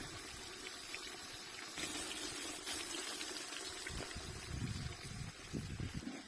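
Meat for Afghan plov sizzling and spattering in a hot pot, a steady crackling hiss with occasional louder pops, close by.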